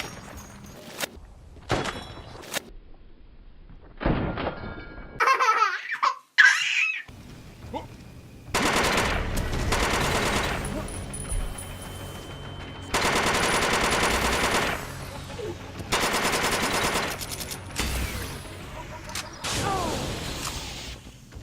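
Gunfire from the Hunter's weapon in the Deathgarden video game: rapid bursts of loud shots come in several separate volleys, with short pauses between them, and whooshing effects sound in between.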